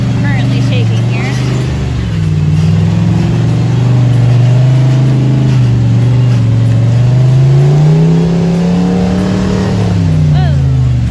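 Jeep Wrangler JKU engine revving hard off-road on a Black Mountain trail in Harlan, Kentucky, a loud sustained drone rising and falling in pitch as wheels spin, with excited voices over it.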